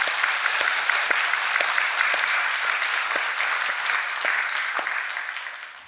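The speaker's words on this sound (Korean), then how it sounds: "우리 박수로 한번 하나님께 영광을 돌려드리시겠습니다" A church congregation claps together during a service, a dense, even burst of applause from many hands that holds steady for several seconds and then begins to fade.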